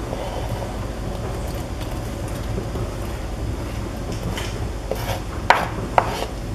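Onion and garlic sauté in hot olive oil with a continuous close hiss and sizzle. A few sharp utensil clicks sound near the end.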